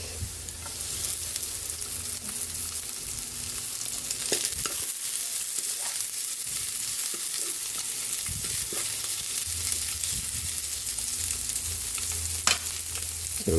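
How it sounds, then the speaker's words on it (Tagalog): Garlic and onion sauté in a hot pan with a continuous sizzle, broken by scraping and stirring clatter and a short quieter stretch in the middle. "Lagyan na natin yung ating bawang. Lagyan na rin natin yung buyas."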